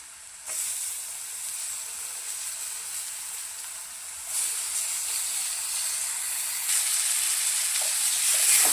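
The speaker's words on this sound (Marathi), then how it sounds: "यामध्ये चिरलेला टमॅटो टाकून घेऊया" Chopped tomato sizzles and hisses in a hot pan for tomato chutney, a steady loud frying sound that surges at about half a second and grows stronger twice more, with no talk.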